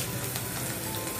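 Curry leaves hit hot oil in a pan while cooking a Maharashtrian dish made from leftover roti, giving a steady, close, crackling sizzle.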